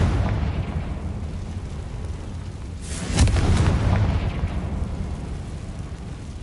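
In Hogwarts Legacy, a Confringo spell goes off as a single sharp explosive burst midway through, then a rumbling boom trails away over a constant low game ambience.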